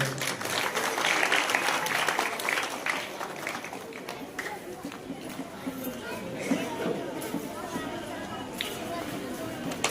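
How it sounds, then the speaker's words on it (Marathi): Applause from an audience at a felicitation ceremony, a dense wash of clapping that rises at the start and then settles into steadier, lighter clapping mixed with crowd chatter and murmuring voices. "टाळ्यांचा गजर झाला पाहिजे"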